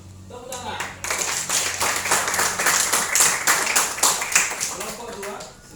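A classroom audience claps in dense, steady applause during a religious-moderation group presentation, lasting several seconds at even loudness before tapering off, with some voices mixed in.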